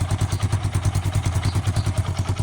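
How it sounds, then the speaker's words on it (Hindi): A rebuilt Hero Super Splendor motorcycle engine idles nearby with an even, rapid thudding pulse and a light mechanical clatter. No voices are heard. "आप जो है इंजन का जो आवाज़ है वो आप सुन सकते हैं।"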